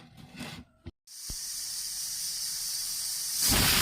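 A pressure cooker cooking beef biryani masala lets out a steady, breathy steam hiss after a couple of faint knocks, holding constant and then growing louder near the end.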